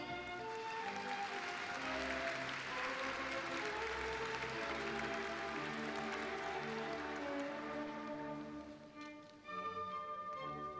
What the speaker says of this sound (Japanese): 拍手を持ってお迎えください。